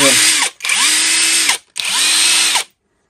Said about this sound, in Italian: sto alimentando questo avvitatore tramite il mio alimentatore da banco